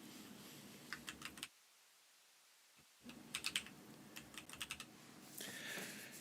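Keys clatter on a computer keyboard in quick bursts of close, quiet tapping, with a short pause in the middle, and no talking.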